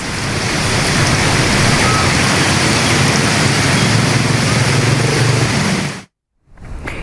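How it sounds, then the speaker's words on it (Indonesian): Heavy rain pours over Gadok in the Puncak area, a dense, loud, unbroken roar for about six seconds before it stops abruptly. "cuaca sejak sore hari di wilayah Gadok diguyur hujan deras"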